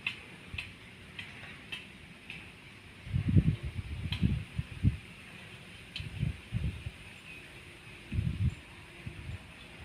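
A wind-driven spinning scarecrow with a tail vane and tied bags gives off rhythmic wooden ticking and knocking clatters as it turns, with occasional louder rattling bursts over light wind rustle, close by and without talk.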